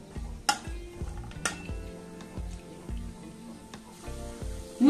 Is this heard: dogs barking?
no